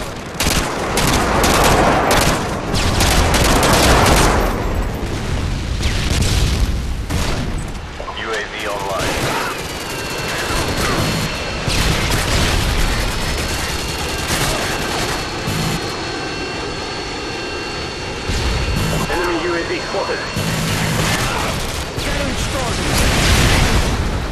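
Explosions and rapid gunfire from a Modern Warfare 2 multiplayer match, with jet aircraft roar and a Predator missile strike, loud and continuous throughout, broken by repeated blasts and bursts; in-game voice lines come through in places.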